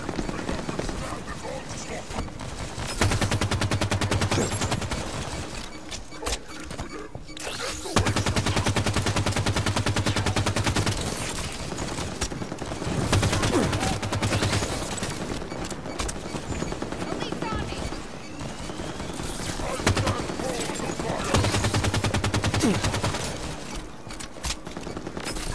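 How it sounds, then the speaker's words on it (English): Automatic weapon fire in the Halo video game, repeated rattling bursts over about twenty-five seconds with a player talking over the shooting. "Enemy will be firing on me."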